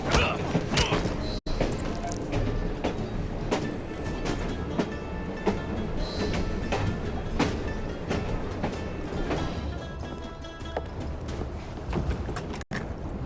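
A train runs steadily in the video game Assassin's Creed Syndicate, set in London, giving a continuous rumbling mechanical roar with faint rhythmic clatter and metallic ticks throughout.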